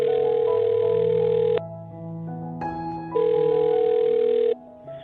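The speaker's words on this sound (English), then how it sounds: "I'll dial the phone number right now." A telephone line carries steady electronic tones: a sustained dial tone that cuts out, a short sequence of shifting dialing beeps, then the tone returns and stops, loud and clean.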